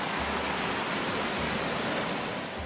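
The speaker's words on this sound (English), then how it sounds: "The gentle rush of fresh mountain water spilling from the Rif Mountains." Fresh mountain spring water rushes at Ras El Ma in Chefchaouen, Morocco, a broad, continuous roar of flowing water close by, steady and loud with no voices.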